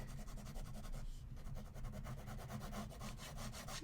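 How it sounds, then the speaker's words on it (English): Pen scratching across journal paper, held at an angle with light pressure, giving a close, steady dry rasp of rapid repeated strokes with a brief pause partway through. "the way I'm getting the pen to be scratchy is I'm kind of holding it at an angle and I'm not pressing very hard"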